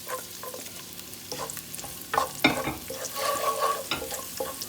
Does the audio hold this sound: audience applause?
no